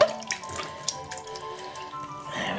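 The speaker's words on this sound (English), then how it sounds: "Let me wash my arm off." Tap water runs steadily to wash off an arm at a sink, with splashing and dripping close by and no talking.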